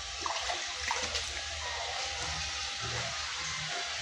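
Water rushing steadily as a fish pond is drained to clean it and remove fingerlings, a continuous broad wash with low gurgling underneath, fairly quiet and even throughout.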